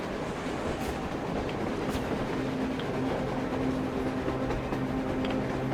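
A train approaches in Metro Exodus, a faint steady rolling rumble with rhythmic rail clatter and a low humming tone growing over several seconds.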